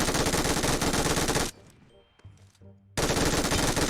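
Rapid, loud automatic gunfire in a battle royale video game, a dense burst for about a second and a half, then a quiet gap, then another sustained volley at close range.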